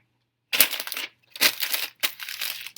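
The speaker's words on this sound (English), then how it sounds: "Crumple it" A paper math worksheet is crumpled by hand in three separate bursts of loud, crackly crushing, with short silent gaps between them and no talking.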